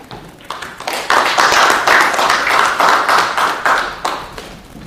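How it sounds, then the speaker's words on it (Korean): An audience claps for two award recipients at a Korean wild ginseng awareness event held at the National Assembly. A few scattered claps quickly swell into loud, dense applause that holds steady, then tapers off near the end. "우리 감사장의 수상에 영광하는 두 분께 다시 한번 큰 박수 보내주시기 바랍니다"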